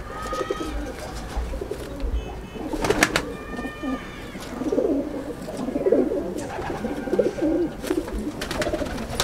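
Pigeons cooing in a loft, several birds giving repeated low throaty coos close by, with wing flaps and scattered chirps over a steady background noise.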